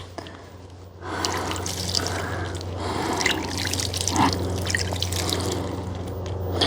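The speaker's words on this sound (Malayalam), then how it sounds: "ഇതിനും നമുക്ക് കുറച്ച് വെള്ളമൊക്കെ വെച്ച് കൊടുക്കാം" Water poured onto a potted plant runs and trickles steadily into the soil at close range, starting after a quiet moment and continuing as a constant splashing flow with no talking.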